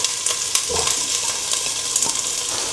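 Onions hitting hot oil with ginger, frying for chicken tinola, give a steady, close sizzle with crackle and a few stirring clicks throughout.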